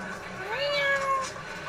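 An anime cat gives a single clear meow with a rising and falling tone, close and distinct over a faint background.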